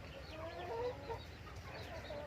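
Chickens clucking around a coop on a countryside farm, several soft, moderately distant clucks scattered over a low outdoor background hum.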